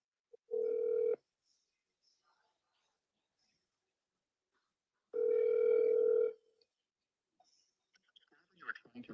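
A phone call rings out twice in long steady tones, each lasting under a second then about a second, with silence between, faint clicks afterward and a brief muffled voice near the end.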